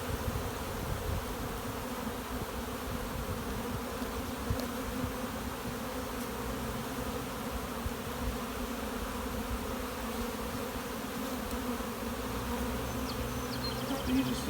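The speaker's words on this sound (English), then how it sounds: "Bees are still staying calm, even around Cameron." Honey bees hum in a dense, continuous drone around an opened hive during a colony split, steady and moderately quiet throughout with no voices.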